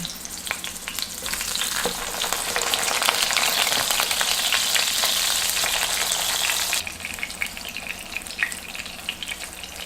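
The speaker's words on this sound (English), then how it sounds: "cook the eggplants on both sides until golden brown" Eggplants fry in shallow oil until golden brown, a loud, dense crackling sizzle that swells and holds, then drops abruptly to a quieter, sparser spatter near the end.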